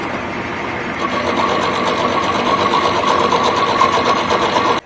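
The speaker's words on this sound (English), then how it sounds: "So I get to use my lathe." A metal lathe runs steadily in a workshop, a continuous whirring, mechanical drone with a faint buzzing whine that holds even for about five seconds, close and moderately loud, with no talk over it.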